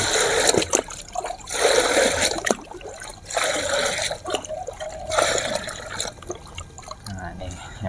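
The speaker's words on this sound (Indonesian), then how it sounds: "Nih sampai dia netes-netes ke bawah teman-teman." Bougainvillea plant watered heavily until water drips down, with broadband splashing and trickling throughout, under a person talking.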